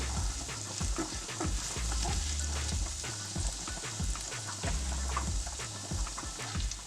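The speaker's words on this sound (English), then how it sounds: "So it's frying for a bit now." Steady, crackling sizzle of food frying in a pot before salmon is added, with continuous popping and spattering throughout, close and fairly loud.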